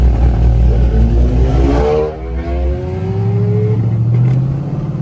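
Loud, close revving of a cammed Dodge Charger R/T engine heard from outside the car, with a rising throttle blip that falls back into a choppy, lopey idle.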